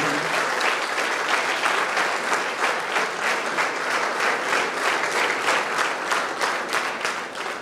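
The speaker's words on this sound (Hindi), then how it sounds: "गवर्नर राज्यपाल जी का बहुमान तालियों के साथ सब लोग" An audience claps for the governor at a formal honoring ceremony, a loud, sustained burst of many hands with a faint rhythmic pulse that runs unbroken and fades slightly at the very end.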